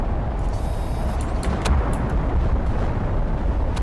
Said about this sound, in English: Oh, meteor storm.